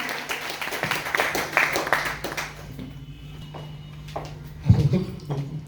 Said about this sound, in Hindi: जोरदार ताली होनी चाहिए।